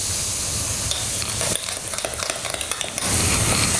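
Baking soda quenched with vinegar fizzes and crackles in a bowl while being stirred for baklava dough. It makes a dense, steady hiss with soft scraping of a spoon throughout, and nobody speaks.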